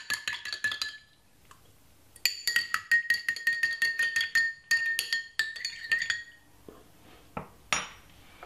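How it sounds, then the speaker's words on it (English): A spoon stirs a cinnamon drink in a glass, rapid bright clinks and ringing taps in bursts with a short pause between, close and clear, with no talking. "Give it a good mix."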